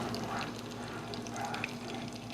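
Noodles boil in a pot in a vacation rental kitchen, a soft bubbling and fizzing heard close by, fairly quiet, with a steady low hum behind it.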